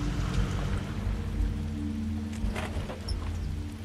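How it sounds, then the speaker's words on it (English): Steady rain falling in The Wolf Among Us video game at the Buckingham Bridge, a dense continuous patter of drops with a low background hum and faint distant rumbles, no voices. "And it's raining."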